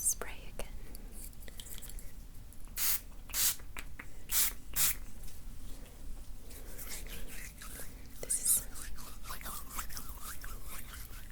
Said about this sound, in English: I will use the spray again.